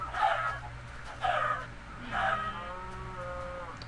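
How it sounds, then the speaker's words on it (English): Chickens being burned in the video game Minecraft give three short squawking clucks at a steady pace, with a low, steady game hum underneath. "as I attempt to burn these chickens"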